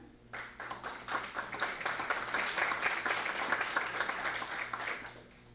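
Audience applause fills a literacy tutor recognition and awards ceremony, a steady wash of many hands clapping that swells quickly, holds for several seconds, then tapers off near the end.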